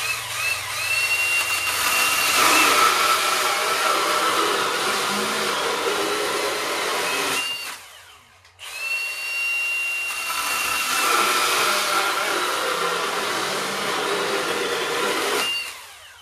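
Milwaukee M18 cordless top handle saw cutting through knotty wood, running as a loud, continuous buzzing roar that drops out briefly partway through before a second sustained cut.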